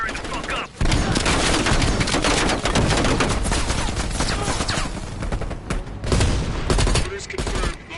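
Heavy machine gun fire rattles through a Call of Duty: Cold War battle near a ridge, a dense, loud and continuous barrage with layered battlefield noise, briefly dropping out near the start before resuming at full intensity.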